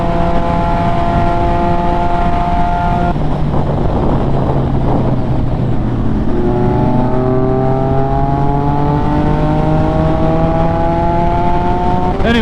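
An MV Agusta motorcycle rides along a road, its engine note rising and falling through gear changes with strong wind rush over the microphone, loud and continuous.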